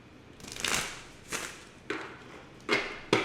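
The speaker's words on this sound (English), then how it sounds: "So we're gonna do a couple shuffles." Oracle cards are shuffled by hand in several separate bursts, each a quick papery riffle or slide up close, spaced about a second apart against quiet room tone with no talking.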